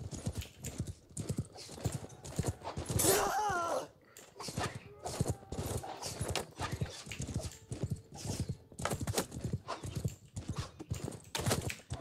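Many hooves clatter in a fast, continuous gallop in the video game Mount and Blade, with a horse whinnying partway through; a dense, busy battle-like rush of cavalry charging.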